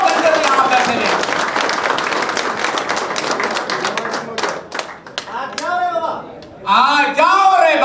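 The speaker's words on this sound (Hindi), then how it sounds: "तालियां आप लोगों के लिए भी है" Audience applause at an Unacademy engineers conclave in a Delhi offline centre, dense steady clapping for several seconds, thinning before a voice speaks over it near the end.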